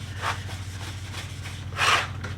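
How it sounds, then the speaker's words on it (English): Wood stain being rubbed by hand into wooden shelf boards, giving soft, repeated swishing strokes of cloth on wood at an uneven pace, close up, with one louder, longer stroke near the end and no talking. "This is my favorite way of putting stain on. Just rub it in."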